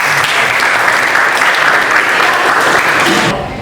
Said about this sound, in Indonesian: Ini beri tepuk tangan untuk yang luar.